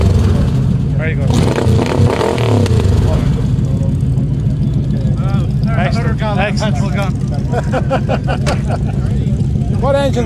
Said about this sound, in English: You want to see it when I do a burnout?